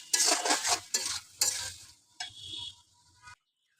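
A pan of pumpkin chhokka cooked with hilsa fish head, finished with coriander leaves and cumin powder, is stirred in several loud, close scraping strokes with a faint sizzle before everything goes quiet.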